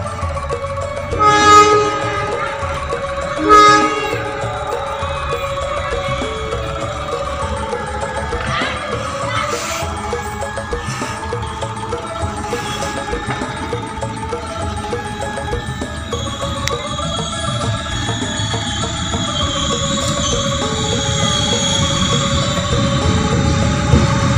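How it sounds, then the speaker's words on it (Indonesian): Kutojaya Selatan passenger train pulling into Tasikmalaya station behind a shiny locomotive, with a couple of loud horn blasts early on, then a steady rumble of rolling wagons and a brake hiss as it slows on track 2. "kereta api Kuto Jaya Selatan sudah berhenti dengan sempurna di jalur 2 stasiun Tasikmalaya"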